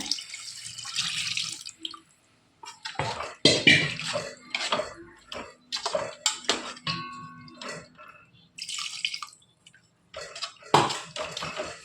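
Water is poured into a cooking chicken curry, heard as close, irregular splashing and dripping bursts separated by short quiet gaps, with no talk.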